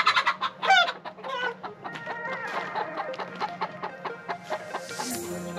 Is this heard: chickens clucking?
yes